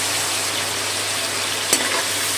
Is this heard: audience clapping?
no